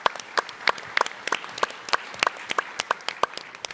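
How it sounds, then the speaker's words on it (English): An audience applauds at the TechCrunch Disrupt 2023 conference, sharp claps scattered across the whole stretch, moderately loud and close, with no talk over them. "Give them a round of applause."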